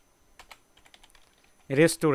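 Quick, light computer keyboard typing for roughly the first 1.7 seconds, followed by a person speaking loudly and close by.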